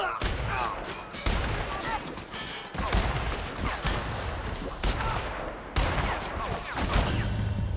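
Gunfire in The Outer Worlds: rapid, dense bursts of shots crackle and thud close by in rolling volleys, with brief gaps between, and a voice occasionally speaking underneath.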